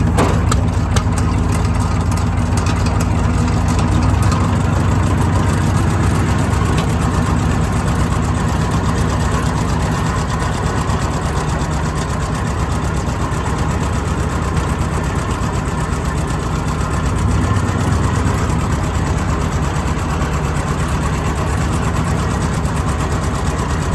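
A 1938 John Deere L tractor engine idles loudly and steadily up close, its low chugging rumble continuing unbroken for the whole stretch.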